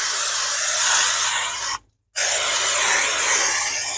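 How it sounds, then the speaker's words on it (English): Cooking spray hissed into an 8x8 baking pan, two loud close bursts of steady aerosol spray split by a short silent gap. "I got a 8x8 and I'm going to spray it."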